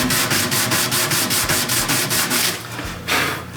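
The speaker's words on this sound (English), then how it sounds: "Give it a little bit of a sand." Hand sanding rounds off the sharp, saw-cut edge of a wooden newel post for a staircase, a close rhythmic series of rasping back-and-forth strokes that slow toward the end, with no talking.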